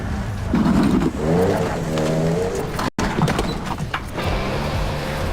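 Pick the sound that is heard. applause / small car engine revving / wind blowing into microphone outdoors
small car engine revving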